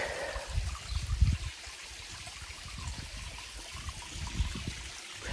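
Water runs at Donne waterfalls, a forest falls near Gokarna, as a faint, steady rushing and trickling with low rumbling surges, heard alone at a modest distance.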